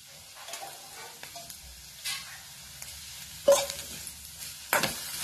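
Onion fries in a little oil with a soft, quiet sizzle, broken by a few sharp scraping clacks of a spoon against the pan.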